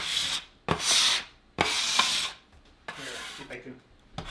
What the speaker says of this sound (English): Take your scraper, scrape up your mess.